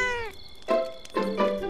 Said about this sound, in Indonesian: Kucing? Ha? Comelnya!